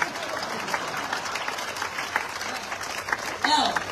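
Applause from a concert audience at a singer's show, a dense, steady clatter of many hands that swells near the end, with a voice speaking over it.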